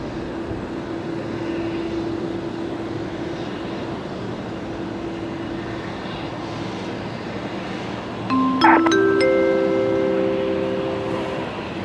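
An airliner taking off at Brisbane Airport at night: a steady, fairly loud engine roar fills the scene throughout, with high tonal whines rising and swelling near the end.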